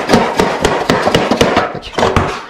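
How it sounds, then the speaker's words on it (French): A hammer taps a shim against sheet metal while assembling a standing seam joint, about ten sharp metallic strikes in quick steady rhythm, close and loud. "je prends ma cale et je peux venir taper aussi dans ce sens"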